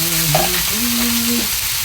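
Corned beef sautés in a pan, giving a loud steady sizzle and frying crackle at close range, with a few tonal scrapes as it is stirred.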